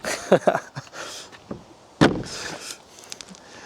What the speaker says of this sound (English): Should I shut that door?